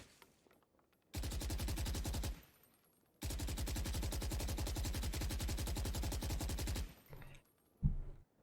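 Two long bursts of rapid automatic spray fire from guns in Valorant, each a dense run of evenly spaced shots, separated by a short silence and followed by a faint clatter.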